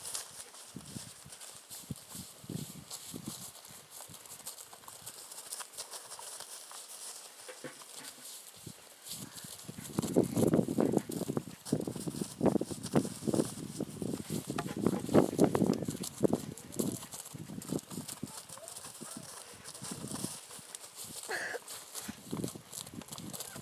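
Hoofbeats from a saddled horse being lunged, a soft uneven clip-clop that swells louder in two stretches, scuffing on the ground amid outdoor background noise.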